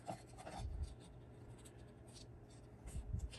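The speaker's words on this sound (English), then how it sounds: "Mark it. Fold it over." Paper being marked and folded into tabs by hand: faint, close scratchy rubbing and pen strokes with soft creasing thumps, quiet and intermittent.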